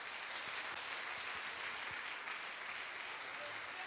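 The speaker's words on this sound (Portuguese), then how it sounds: "Uma salva de palmas para o Senhor" Steady applause from a church congregation fills the space, a dense even patter of many hands clapping at a moderate, slightly distant level with no voices standing out.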